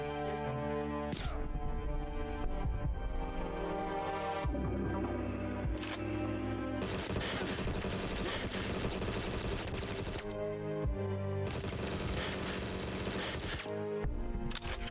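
Gunfire in the spy shooter Agent 64: Spies Never Die, a GoldenEye-style game, loud and dense throughout, with bursts of rapid shots and sharp impacts mixed into busy game sound and music.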